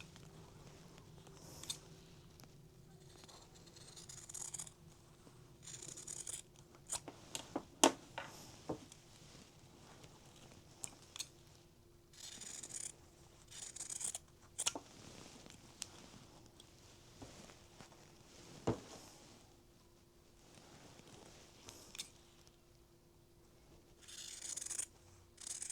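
Scissors trim fabric off a quilt block for a charity quilt, giving intermittent close snips and rustling fabric rubs in short bursts separated by quiet pauses.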